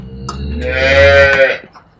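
A dairy cow at a cattle sale gives one loud, close moo that rises and then fades over about a second, with no other voices.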